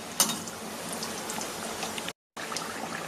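Kachori deep-frying in hot oil, a steady dense crackle and bubbling with one sharper pop near the start and a brief dropout of silence before the frying resumes.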